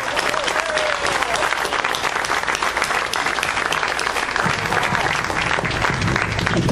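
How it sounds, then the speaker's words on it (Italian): A large crowd at an outdoor political rally in Acquarica, Vernole, Italy, claps and cheers in steady, dense applause that fills the whole stretch without a break. "Pantaleo Mangè, un grande applauso a Pantaleo."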